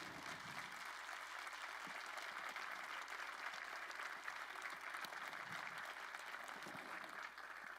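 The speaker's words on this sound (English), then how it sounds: "Would you please give our staff a round of applause?" An audience at a university State of the University address applauds the staff with steady, sustained clapping that holds at an even level throughout, with no talk over it.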